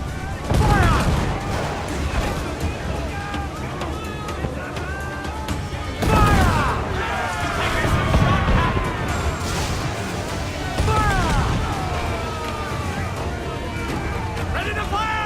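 Ship cannons boom in rapid volleys during a naval battle in Assassin's Creed Black Flag, heavy loud blasts and crashing impacts repeating across the clip, with shouted crew voices over the gunfire.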